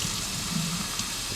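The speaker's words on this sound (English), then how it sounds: "Rinse some cold water under that sucker." Cold tap water runs steadily from a kitchen faucet while mushrooms are rinsed, a continuous close splashing gush filling a sink without talk.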